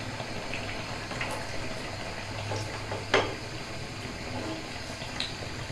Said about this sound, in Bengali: সবগুলো চপ আমি এইভাবে করেই ভেজে নেব।